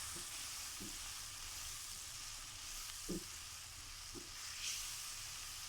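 Cumin seeds and mixed vegetables frying in a pan for mixed sabzi, a steady sizzle throughout with a few soft stirring knocks, heard close without any talk.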